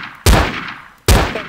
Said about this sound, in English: Got shot at.